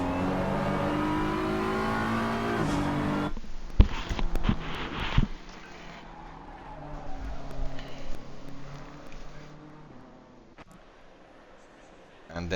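A BMW race car in a racing game at the Hungaroring drives its engine through rising and falling revs, with gear-change bursts in the middle; the engine note stays steady and fairly close, with a voice talking over parts of it.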